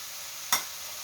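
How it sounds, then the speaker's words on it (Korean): A single short sizzling hiss as mirin goes into a hot pan of shrimp being stir-fried for fried rice, then a quiet background. "새우를 넣고 바로 맛술을 조금만 쪼르륵 부어주세요."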